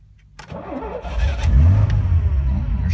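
A 1970 Fiat Dino engine starts from cold: a brief crank catches quickly and rises into a loud, rough, close-up rumble that swells with light revving.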